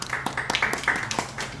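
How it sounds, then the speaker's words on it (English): Audience at a Haitian Americans United panel gathering in Massachusetts giving a round of applause, a brief spell of scattered, fairly close clapping with uneven bursts. "please give yourselves a nice round of applause"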